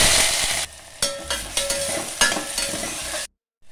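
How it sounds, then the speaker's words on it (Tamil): Chopped onions sizzle loudly in hot oil while being stirred, with intermittent scraping bursts, then cuts to silence. "இப்போ நறுக்கி வச்சுருக்க வெங்காயத்தை போட்டுக்கலாம்."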